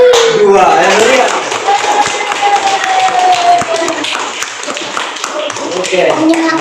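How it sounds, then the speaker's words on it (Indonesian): Classroom clapping for two student groups at the end of a lesson, a steady run of mixed claps and taps heard close, with a voice speaking over the start and children's chatter throughout. "Jadi tepuk tangan untuk kelompok 5 dan kelompok 2."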